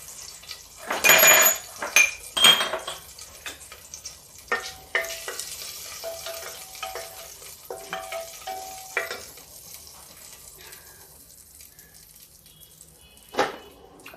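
Bay leaves and whole spices drop into hot oil and fry, a loud crackling sizzle bursting at first, then settling into softer frying with a few stirring clinks and occasional pops.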